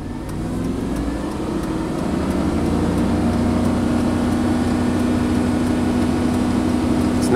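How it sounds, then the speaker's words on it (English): A GM truck engine with a misfire and low-voltage fault, revving up and then holding a steady, droning high idle, close and loud, with no talking over it. "Let's rev it up again"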